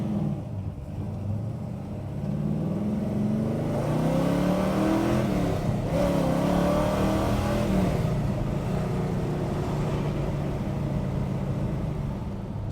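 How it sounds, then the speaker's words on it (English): A 1966 Chevelle with a big-block V8 accelerating hard to 60 mph, its engine note climbing through the gears in a loud, continuous roar heard from inside the car. "So just like that, guys, that was 60 miles an hour."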